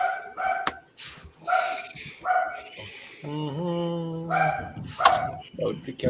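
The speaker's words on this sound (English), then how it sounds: "alien dogs are barking" Shrill, high-pitched dogs barking in quick yapping bursts, with a stretch of whining, wavering tones in the middle, loud and close; a voice speaks underneath.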